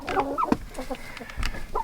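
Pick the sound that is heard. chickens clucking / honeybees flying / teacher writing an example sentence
chickens clucking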